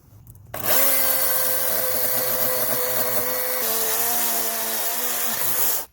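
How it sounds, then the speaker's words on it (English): A chainsaw runs loud and close at a steady high whine for several seconds, cutting continuously through tree roots around a freshly cut stump, then cuts off abruptly. "I can then come in with my chainsaw and slice through these"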